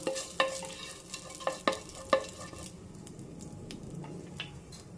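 Pepper chicken with fennel seeds is stirred in a pan over a medium flame, giving a few sharp scraping clacks of a spoon against the pan over a soft, steady sizzle.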